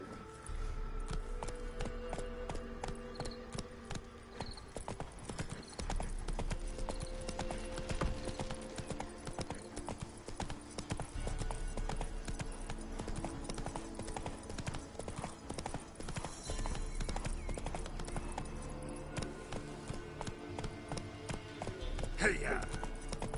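The horse Roach gallops in The Witcher 3, a sustained fast clip-clop of hooves beneath game music, with a short whinny near the end and a voice speaking at times.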